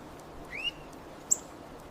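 Long-tailed tits in a Hokkaido forest give two brief, thin high calls, a short sweeping chirp and then a sharper single note, faint against a quiet woodland hush.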